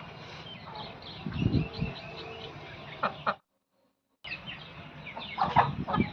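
A cross-breed laying hen weighing about 3 to 3.5 kg clucks nearby in several soft, irregular bursts, with a brief silent break midway before more clucking resumes.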